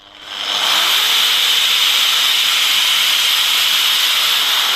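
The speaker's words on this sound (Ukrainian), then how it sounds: "Пробуємо шліфмашинка." An angle grinder powered from an inverter under load spins up in the first half second, then holds a loud, steady high-pitched whine and hiss with no talk.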